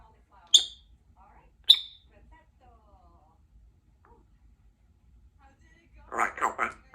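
A pet bird at home gives two sharp, high chirps about a second apart, close and clear over a quiet room, followed near the end by a short burst of talking.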